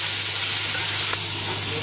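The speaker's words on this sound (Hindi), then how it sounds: "अब जब तक चिकन का कलर चेंज नहीं होता, वाइट नहीं होता, उतनी देर हम इसको अच्छी तरह फ्राई करेंगे।" Chicken pieces frying in very hot ghee for katakat, a steady close sizzle with broad hiss and a faint stirring scrape, no voices.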